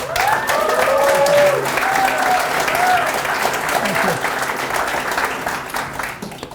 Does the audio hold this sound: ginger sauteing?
no